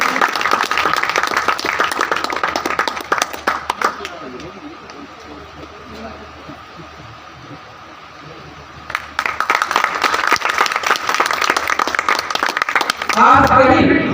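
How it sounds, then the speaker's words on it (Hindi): Loud audience applause welcoming guests onto a stage at a club's Independence Day event, vigorous clapping that fades to a quieter lull and then swells again strongly, with some voices. "जोरदार तालियों से स्वागत करिए।"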